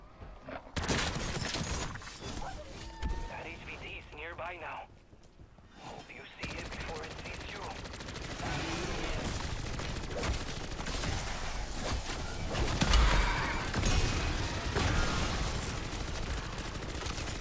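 Rapid bursts of hipfired automatic rifle fire from an AR fitted with the JAK Cutthroat kit in MW3 Zombies ring out loud and near, continuing almost without a break among game effects and brief speech.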